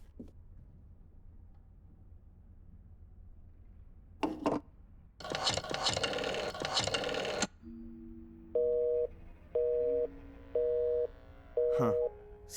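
Telephone in the video game The Black Mirror 2: a receiver is handled, then a bright busy signal repeats four evenly spaced beeps, clear and close with no voices.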